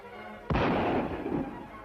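A single distant gunshot cracks out across dry open country, one sharp report that rolls into a fading, echoing tail over faint background hiss.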